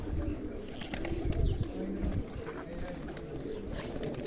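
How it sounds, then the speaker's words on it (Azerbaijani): Pigeons coo softly in a mountaintop setting, low repeated calls layered over faint background noise and scattered chirps, fairly distant and quiet. "Ya, maşallah quşlar."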